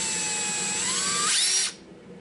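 A small handheld rotary power tool whirs at high speed, used while working on an HO scale Isuzu box van model; a steady close whine rises slightly in pitch, then spins down and cuts off near the end.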